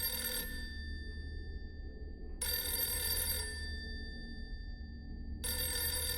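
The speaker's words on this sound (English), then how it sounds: "Doctor, aren't you going to answer it? That phone hasn't rang in I don't know how long." An old telephone bell rings in two long bursts with a pause between, then starts a third, loud and close over a steady low hum in a sci-fi audio drama.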